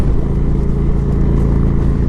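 A 2017 Indian Springfield bagger's 111 cubic inch (1,830 cc) V-twin runs at a steady, loud, close drone with a dense low rumble and no talking.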